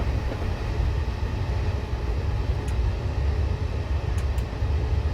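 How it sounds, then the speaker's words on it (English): A train rumbles past in Train Simulator 2016, heard from the cab of a Class 377 EMU Southern commuter train near London, as a steady low roar with no talk. "Train passing me by there."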